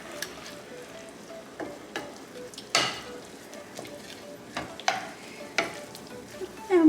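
Sauce hitting a hot pan on a weeknight dinner, bursts of sizzling with stirring scrapes and occasional utensil clicks, fairly close, no talking.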